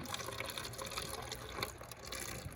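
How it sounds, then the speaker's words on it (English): Water poured from a cup onto a small model landscape of soil, a soft continuous trickle and splash, close and quiet, running for the full stretch without talk. "We're gonna pour the water in our rain cup and watch how the rain is changing our land shape"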